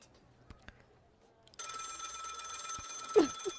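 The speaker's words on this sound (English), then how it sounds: "Pick up the phone." A telephone rings inside a video game, a sustained bright electronic ring that starts abruptly partway in and continues steadily to the end, loud and alone after a few faint clicks.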